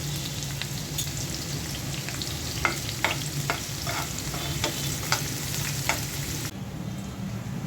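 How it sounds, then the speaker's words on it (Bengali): Chopped onion sizzles and crackles in oil left from frying fish, a steady frying hiss throughout with scattered sharp stirring clicks and pops, close and fairly loud, no voices. "পেঁয়াজ কুচি দিয়ে দিচ্ছি"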